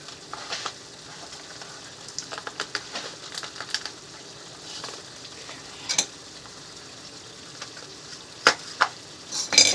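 Sugar cooking in a cast iron skillet with bananas for bananas foster gives a soft low sizzle, broken by scattered sharp crackles and pops that grow louder near the end.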